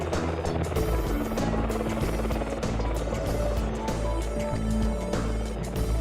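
An AgustaWestland AW101 helicopter, formerly the EH101, flies overhead with a steady, loud, dense rotor and engine roar that holds at a constant level.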